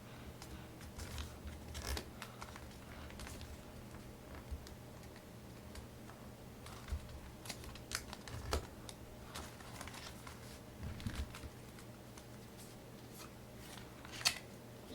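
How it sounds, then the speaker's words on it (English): Paper folded into an origami F-15 fighter jet gives faint crinkles, taps and sharp creasing clicks scattered irregularly over a quiet background. "you're going to fold it all the way up to that point right there"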